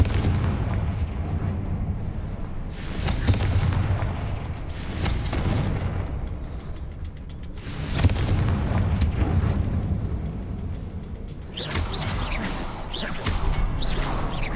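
Confringo blasting spells explode in Hogwarts Legacy, several heavy booming bursts in succession, each flaring loudly over a steady bed of game ambience.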